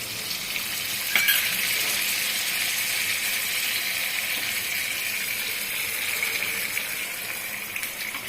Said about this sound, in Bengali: ওই থালা ধোয়া জলটাও এখন আমি দিয়ে দিব।